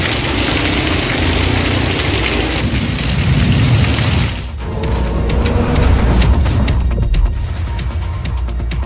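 Heavy rain pours steadily for about nine seconds in the Madurai area of Tamil Nadu, a loud, dense, continuous hiss with a low rumble underneath that eases briefly midway and then returns.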